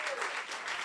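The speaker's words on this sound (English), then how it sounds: "Could you please give a massive, massive round of applause to Iain, the tech" Dense audience applause fills a stand-up comedy venue at the Fringe, a steady wash of clapping heard briefly and fairly loud, with no distinct voices.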